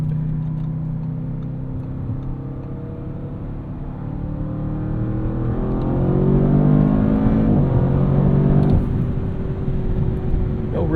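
A 2024 Audi RS7 Performance with a twin-turbo V8 accelerates hard, its engine note climbing steadily in pitch and loudness over several seconds before easing off, heard from inside the car with no talk.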